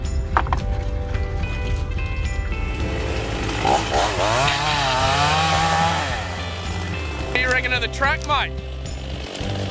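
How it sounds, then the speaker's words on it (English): A chainsaw snarls and revs while cutting small overhanging branches beside an off-road 4x4 track in coastal bush near Walpole. People talk over the engine noise. "We had to cut down a few small branches that were overhanging the track."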